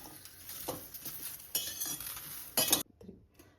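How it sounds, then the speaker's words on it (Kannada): Okra being dry-roasted in a pan with no oil while a utensil stirs it, giving soft scraping and clinks with a few louder metallic knocks, then quiet. "ಎಣ್ಣೆ ಹಾಕಬೇಡಿ, ಹಾಗೆ ಹುರಿರಿ."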